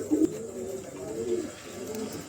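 Pigeons cooing close by, several soft throaty coos rolling one after another in a steady low rhythm over quiet background, with no talking.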